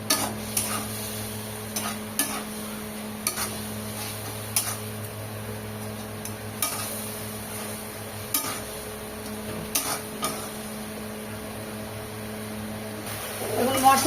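Spices with ground chili paste and whole green chilies sauté for a spicy kakrol curry, a soft steady sizzle with periodic scraping stirs and light clinks from the pan.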